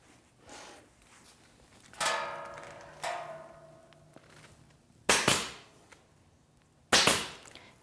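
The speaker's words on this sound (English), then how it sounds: "I'll get a staple in over here to hold it" A staple gun drives staples through rug fabric into an upholstered ottoman, firing several sharp, close snaps spaced a second or two apart, separated by quieter handling noise.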